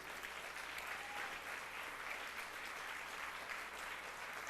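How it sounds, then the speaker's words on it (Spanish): A church congregation claps together in a steady, even burst of applause that fills the whole moment without any speech. "¿Cuántos le dan un aplauso a Cristo Jesús?"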